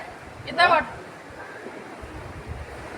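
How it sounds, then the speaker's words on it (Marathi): Sea waves wash against rocks on a Konkan coast shore as a steady, soft roar with wind noise throughout, broken early by a brief, sharp chirp-like sound. "लाटा येऊन बघा मित्रांनो असं धडका लागल्यात दगडासने दगडासने जोरात धडकत्यात आणि परत मागे जात्यात"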